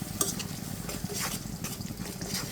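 Ground turmeric, coriander and cumin are stirred in a hot cooking pan, giving a steady close sizzle with soft scraping as the spices are moved around.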